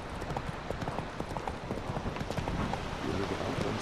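Roach, a horse in The Witcher 3, trots along in a steady, close clip-clop of hooves, with a faint hum underneath and no talking.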